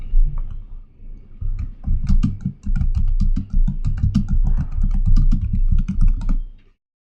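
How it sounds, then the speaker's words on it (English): A computer keyboard clatters as a command is typed at a prompt, a close, loud run of quick uneven key taps with brief pauses, then stopping. "So let's type that at the command prompt."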